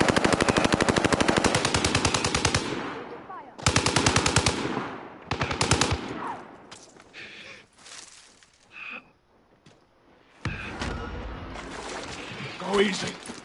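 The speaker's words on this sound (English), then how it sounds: "you got someone shooting from behind you" Rapid automatic gunfire bursts in the video game Warzone, loud and close, then scattered distant shots and game effects, with players talking over the action.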